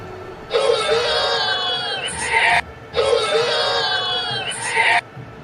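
A crowd at a Big Bash cricket match between Brisbane Heat and Perth Scorchers roars and whoops in two loud, sustained swells, each lasting about two seconds, with a cheering wall of voices rising together.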